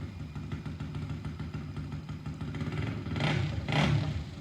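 A quad bike engine runs steadily nearby, a low mechanical drone with clattering texture that swells louder in two brief surges toward the end, with no talking.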